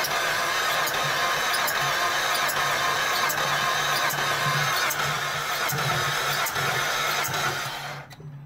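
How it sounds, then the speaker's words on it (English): A Saab engine turning over on the starter while failing to start, a steady mechanical churn with faint rhythmic pulses and coolant gurgling in the cooling system, loud and close, stopping abruptly at the end. "you'll be able to hear the gurgling of the coolant in the cooling system as the engine turns over"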